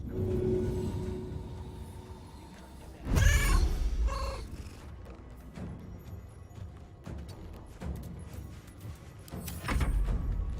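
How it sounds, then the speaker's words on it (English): A cat in Baldur's Gate 3 gives a short, loud rolling purr-like vocal burst that sounds like a laugh, followed by a quieter second call and another burst near the end over low game ambience. "the cat just laughed at you"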